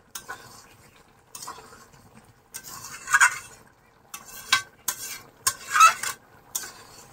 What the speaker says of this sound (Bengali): আমি 1 বাটি মতনই গরম জল দিলাম, আর দেব না। এটা একটু কষা কষা মতনই করব।